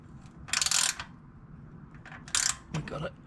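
A ratchet undoes 14mm exhaust bolts on a Yamaha SCR 950 motorcycle, two short bursts of close clicking separated by a quiet pause, with no talking.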